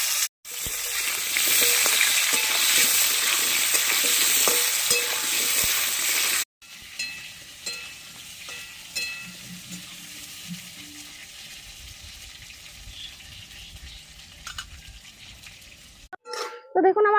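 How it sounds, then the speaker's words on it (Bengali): Potatoes mixed with turmeric sizzle loudly in oil left over from frying fish, a dense crackle that cuts out abruptly and then resumes as a quieter, steady fry with some stirring. "মাছ ভাজা তেলে ভেজে নেবো।"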